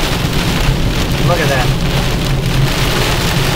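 Heavy rain pounds down during Hurricane Ike in a loud, unbroken roar of drops close around, and a voice speaks briefly over it.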